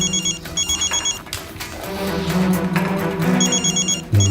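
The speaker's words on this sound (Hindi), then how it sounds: "मम्मी का फोन।" A telephone rings in repeated electronic bursts, with background music and low ambient sounds underneath between the rings.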